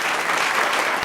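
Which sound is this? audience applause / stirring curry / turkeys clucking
audience applause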